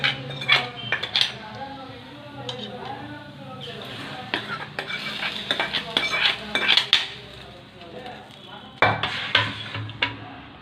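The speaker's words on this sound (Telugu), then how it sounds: "తాలింపు వేసుకోవాలండి." Metal spoon scraping and clinking against a pot while tempering is stirred into thotakura dal, with a soft sizzle underneath; irregular sharp clanks come and go at close range, with occasional talk.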